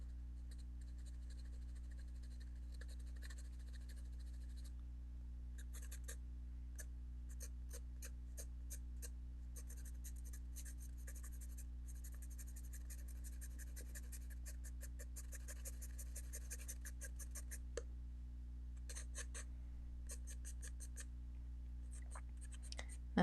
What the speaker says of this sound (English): I'm having the pencil just kind of skate over that edge a little bit